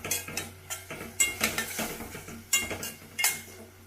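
A utensil stirring tomato and garlic paste in a pan, heard as steady scraping and clinking strokes in an irregular rhythm, close and clear, with no talk.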